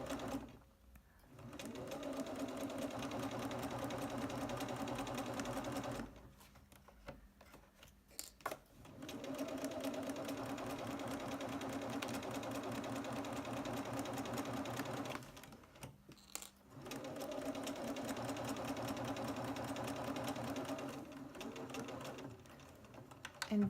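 Three long, steady runs of a sewing machine stitching a 5/8 inch seam allowance, separated by short quiet breaks, close and even with no voices.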